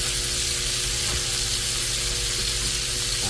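Freshly flipped country style ribs sizzle loudly in a hot pan, a dense, continuous frying hiss close up with occasional small pops and no talking.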